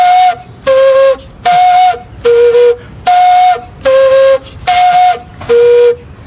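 Gaita flute imitating bird song, playing eight loud, close, breathy whistled phrases in an even rhythm, each with a short pause between and alternating between two pitches.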